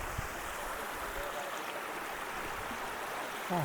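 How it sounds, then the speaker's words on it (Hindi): Water flows at Devkund waterfall in Maharashtra at a reduced rate, making a soft, even rushing that stays faint and constant, with no clear speech. "अभी पानी का वेग जो है ना वो कम है"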